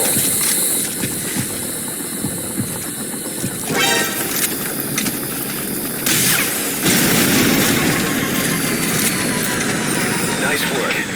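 Enemy gunship in the video game Metal Gear Solid 5, a loud rotor-and-engine drone with booming impacts and bursts of fire in a busy combat mix, with a voice speaking over it.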